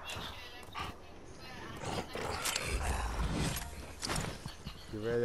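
A wolf in the Fortnite video game growls and snarls close by, with a harmonic howl-like cry rising at the end, mixed with steady talking and game noise throughout.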